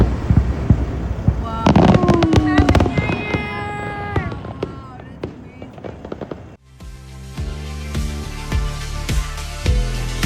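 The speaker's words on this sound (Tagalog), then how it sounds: "nakakita tayo ng fireworks sa Queenstown" Crackling New Year fireworks in Queenstown, with dense pops and bangs over a rumbling background, then a sharper run of repeated bursts and booms in the second half, loud throughout and without talk.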